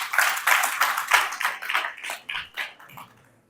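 Clapping from a small audience at an International Women's Day event, a scattered round of handclaps close by that thins out and fades to quiet by the end.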